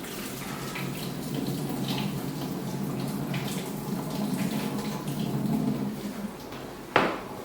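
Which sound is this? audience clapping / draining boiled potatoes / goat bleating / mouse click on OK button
draining boiled potatoes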